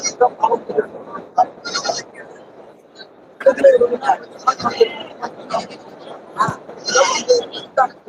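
Sheep and goats at a Tuesday livestock market in Melapalayam, Tamil Nadu, bleating in short repeated calls mixed with busy human voices and market chatter nearby.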